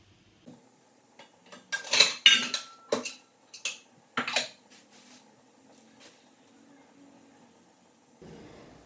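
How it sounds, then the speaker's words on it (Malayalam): Vegetables for a coconut curry are chopped in a home kitchen, with a series of irregular knife-on-board knocks clustered in the middle and loudest early on. Quieter clatter and a soft rustle follow near the end. "കറിക്കുള്ള സാധനങ്ങളൊക്കെ ഒന്ന് അരിഞ്ഞ് അടുപ്പത്തേക്ക് വെക്കട്ടെ"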